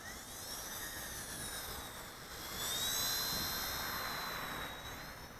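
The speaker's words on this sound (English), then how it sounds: "this is the flight review of the WLtoys V930 PowerStar X2 little brushless helicopter" A small WLtoys V930 PowerStar X2 brushless RC helicopter rotor whines at a high pitch, rising and falling as it speeds up and drifts nearer, over a constant airy hum in a light breeze; no speech.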